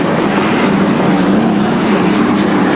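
Loud, steady roar of unlimited hydroplane racing boat engines during a race, a continuous powerful drone without pause and no voices.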